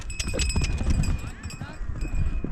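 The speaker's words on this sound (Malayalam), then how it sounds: "കുതിരനെ അടിച്ച് നല്ല സ്പീഡ് പായിക്കുന്നുണ്ട് കേട്ടോ അവന്" A horse in Gulmarg, Kashmir, driven fast, its hooves drumming in a quick, dense patter close by, mixed with rumbling movement noise and a voice speaking.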